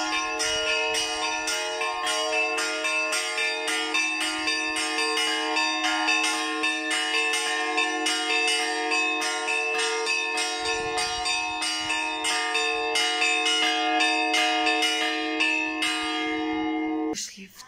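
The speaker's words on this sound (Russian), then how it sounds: "Колокольня работает! Пасхальный звон." Easter church bells peal from a bell tower, many bells struck in a steady, overlapping rhythm with rich ringing tones, loud and continuous for about seventeen seconds before cutting off.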